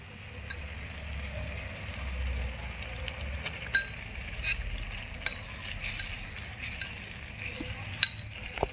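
Prawns tossed into a frying pan for a miniature prawn biryani sizzle gently while a spoon stirs them, with light scraping clinks and soft frying crackle throughout, no voices.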